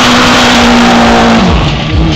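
A drift race car at the Dobre Pneu Drift Grand Prix in Prague roars down a track straight, a loud, close, high-revving engine note that holds steady and then drops pitch as it shifts or eases off.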